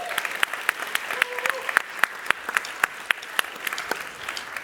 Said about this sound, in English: We can give a round of applause to Matt.